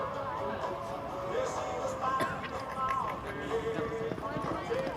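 A palomino horse runs a barrel race pattern in a rodeo arena at the Canoe Mountain Rodeo in Valemount, BC, its hoofbeats clip-clopping under a loud announcer and busy crowd noise.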